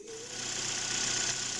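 A Chevrolet Cruze's 1.8-litre F18D4 petrol engine runs at a steady idle just after starting, a continuous close mechanical hum with a faint rhythmic knock underneath.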